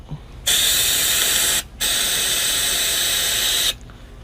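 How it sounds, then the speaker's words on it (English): Two loud blasts of compressed air hissing close by, chasing brake cleaner out of A/C components on a 1989 Dodge D100; a short burst followed by a longer sustained one after a brief pause. "grab your compressed air and chase it out"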